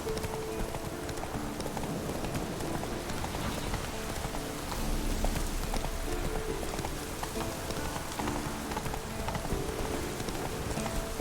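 Roach, the horse in The Witcher 3, clip-clops steadily downhill toward a cliff, hoofbeats repeating under a constant rain-like hiss of ambient game sound.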